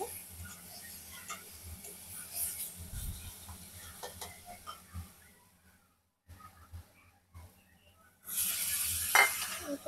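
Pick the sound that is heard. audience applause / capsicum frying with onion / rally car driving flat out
capsicum frying with onion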